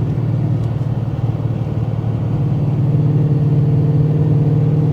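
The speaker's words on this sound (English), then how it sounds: "car drives good, pulls amazing" A 700+ horsepower street Ford Mustang running on E85 accelerates with a loud, close, continuous deep engine drone that holds strong and builds slightly toward the end, with no talking.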